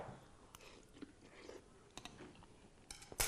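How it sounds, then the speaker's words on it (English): Someone eats wonton soup with kale and crunchy pine nuts, making faint close-up chewing with small crunches and clicks scattered throughout and a sharper crunch at the end, without talk. "I'm just going to keep eating until these guys stop me."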